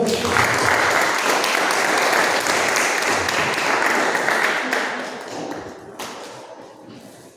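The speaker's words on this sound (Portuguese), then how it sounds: "Aplauda o Senhor." A church congregation claps together in sustained, loud applause that holds steady for several seconds, then gradually thins and fades toward the end, with a few scattered voices mixed in.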